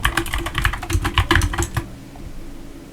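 Rapid typing on a computer keyboard while entering a search into a web browser, a dense run of close, crisp key clicks for under two seconds before falling quiet.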